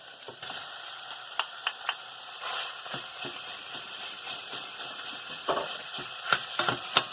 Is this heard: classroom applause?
no